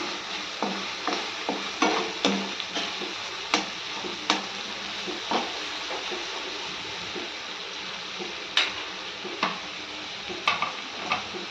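Onion, tomato and spice masala frying in oil for methi chana masala, a continuous sizzle broken by repeated scraping and tapping of a spatula stirring the pan, close and steady, without any speech.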